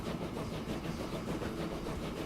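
A steam-era train rolls along in Transport Fever 2, set in 1862, giving a steady, continuous engine and rail rumble with a faint rhythmic pulse, heard on its own with no talking.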